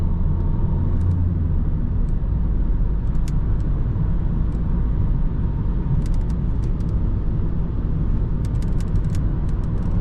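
Renault Megane 4 1.5 dCi car taking a curve at speed on a road, heard from inside as a steady, loud rumble of engine and road noise with faint ticks, no talk.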